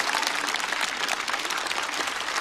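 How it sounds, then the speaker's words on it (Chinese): Stand-up comedy show audience gives a burst of sustained applause for comedian Bai Xiaobai, a thick, even wash of clapping from a large crowd with no talk over it. "掌声送给白小白"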